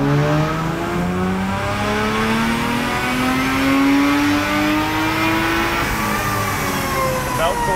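A race car on a dyno runs at full throttle, loud and close, its engine note climbing steadily in a long sweeping rise before it drops off near the end.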